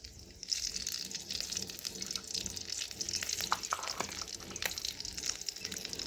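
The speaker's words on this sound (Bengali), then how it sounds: "এখন ফোড়নে দিলাম 5 ফোড়ন গোটা জিরে, একটু ভেজে নিয়ে দিলাম একটা তেজপাতা" Panch phoron, whole cumin and a bay leaf frying in hot oil, a faint steady crackle and hiss with a few sharp pops and clicks of a stirring spoon nearby, nobody speaking.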